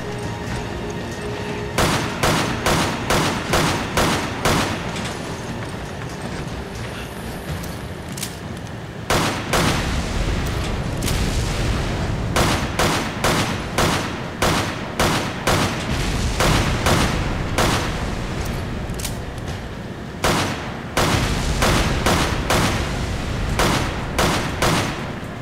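Gunfire in the video game Resident Evil 5 on Veteran difficulty, loud rhythmic shots fired in rapid repeated volleys with short pauses between bursts over about twenty-five seconds.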